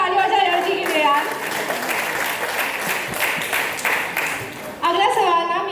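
A studio audience at a comedy show gathering breaks into vigorous clapping that swells through the middle, framed by a voice talking just before it starts and again as it dies away.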